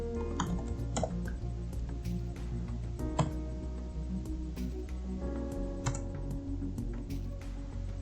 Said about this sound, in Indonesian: Kita ketik dulu database yang akan kita pakai. Ketik use rumah sakit.